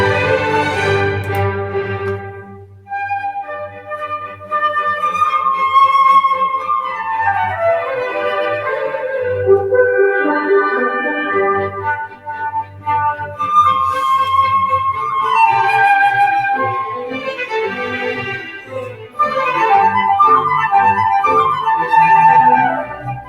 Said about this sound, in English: It's going to be the Mozart Flute Concerto, and we're going to hear what the flute sounds like.